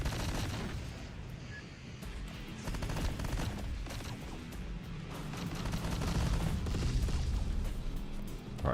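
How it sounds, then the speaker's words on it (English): Sustained video-game gunfire aimed at a turret in a Terminator Dark Fate Defiance battle, a thick stream of overlapping shots and heavy impacts, building slightly louder toward the end with no talk over it. "they're shooting at my turret"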